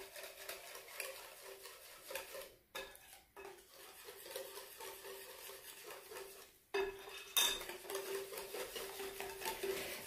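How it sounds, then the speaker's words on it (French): A spoon mixes chocolate cake batter with a tablespoon of baking powder in a bowl, a close run of clinks and scrapes against the bowl with a couple of brief pauses. "Voilà, je mélange d'abord."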